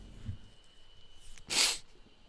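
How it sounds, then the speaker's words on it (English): A single sudden sneeze bursts out close to the microphone near the end, a sharp hissing blast after a quiet, breathy lead-in. "I'm in a sneezing fit now."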